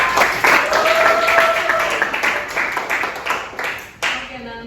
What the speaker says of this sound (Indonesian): Oke, tepuk tangan buat Miftah